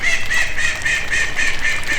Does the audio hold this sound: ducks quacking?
yes